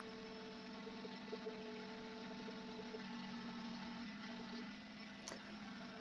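A sander smoothing scratches on a motorcycle helmet hums with a steady, faint motor drone that holds an even pitch, with a small click near the end.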